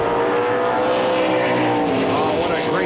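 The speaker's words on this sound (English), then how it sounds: "You can really hear the horsepower in them cars coming down through there" Stock race cars roaring down the front stretch in a 300-lap race at high revs, a dense sustained engine howl close and loud, with faint commentary voices mixed in.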